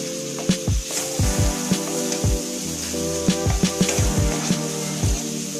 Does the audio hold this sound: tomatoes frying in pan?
yes